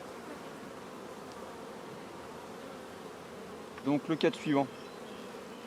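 Honeybees buzz steadily in an open hive during a spring inspection, a dense continuous hum throughout, with a brief spoken phrase over it near the end.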